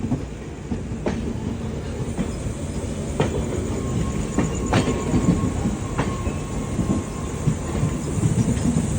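Amrit Bharat Express train running on the rails, a steady rumbling roll with periodic clacks of wheels over rail joints, heard from on board and continuous throughout.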